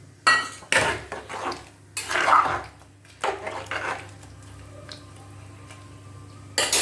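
A glass of soaked parboiled rice goes into hot water in a pressure cooker for meal maker biryani, with several clinking and sloshing bursts of grains and utensil against metal, close by.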